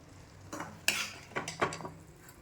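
Cooked spinach scooped from a pan into a mixer jar, a few soft scrapes and light metallic clinks of a spoon against the vessel, close and fairly quiet, with no talk.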